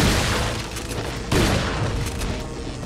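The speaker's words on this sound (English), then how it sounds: "I think it's time for the shotgun" A shotgun fires in Resident Evil 4 with two heavy booming blasts about a second apart, each followed by a rumbling tail over a loud game soundscape.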